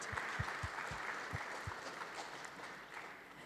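Scattered applause from a small crowd, starting with distinct claps that blend into a steady wash of clapping before fading.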